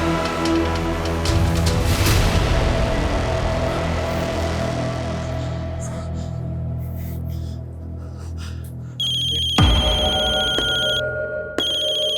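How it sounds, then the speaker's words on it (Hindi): A mobile phone ringtone plays loudly and continuously, a busy melodic tune that switches near the end to a higher, beeping electronic ring. "किसका फोन है वरुण?"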